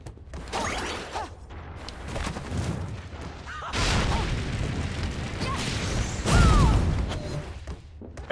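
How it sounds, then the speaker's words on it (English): Video game explosions boom and crackle in a dense, continuous barrage, loud and close, with bursts swelling and fading over several seconds and no talk. "I just like making explosions"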